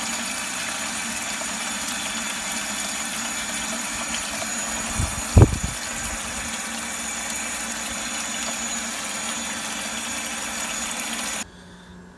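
An Aeromotive fuel pump runs on a stock GTO, pumping dark, dirty fuel into a bucket with a steady, even electric hum, a brief clunk near the middle, and then it stops abruptly at the end.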